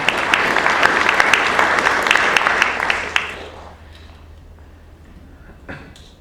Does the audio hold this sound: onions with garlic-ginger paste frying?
no